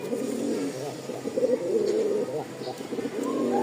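A male pigeon coos low and repeatedly near the listener, soft throaty calls rolling on continuously under faint, indistinct human voices.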